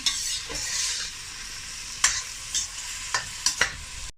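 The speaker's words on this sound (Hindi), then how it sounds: "प्याज ने थोड़ा सा अपना कलर चेंज किया, ज़रा सा सौते हुआ" Onions sauté in a hot pan for a chicken and capsicum curry, sizzling steadily while a utensil stirs and scrapes several times, sharp clicks punctuating the hiss, close up with no talking.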